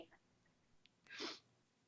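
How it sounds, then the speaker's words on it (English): A single short, sharp sneeze from a cat, faint and close, in an otherwise quiet room. "That's my cat sneezing."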